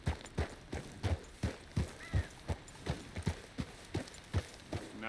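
Horse hooves walking at an even pace in Red Dead Redemption 2, a steady rhythmic clip-clop of about two to three steps per second, close and clear over a soft outdoor ambience.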